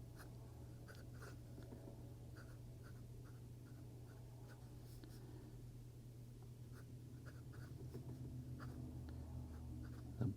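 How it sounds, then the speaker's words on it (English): Fountain pen nib writing on paper, a Benu Black Amber with a medium nib, giving soft scratchy strokes in short bursts against a steady low background hum, close and fairly quiet throughout. "All right, now for our writing test today."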